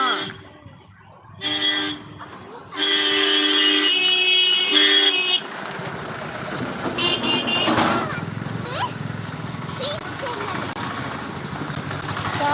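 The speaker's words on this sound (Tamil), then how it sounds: "கொஞ்சம் வண்டி போன சவுண்டு கேட்டிருக்கோம்" A road vehicle passes by outdoors, with horn-like toots early on and then a broad rushing engine and road noise that lingers, with voices in the background.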